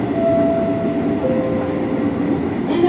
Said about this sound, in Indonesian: Sesaat lagi kereta Anda akan tiba di stasiun Klender Baru.